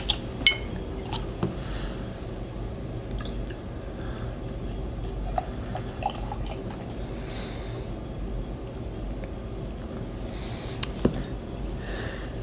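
Firestone Walker Union Jack IPA poured into a glass at close range, a steady liquid rush broken by a few bright glass clinks and drips, with no talking.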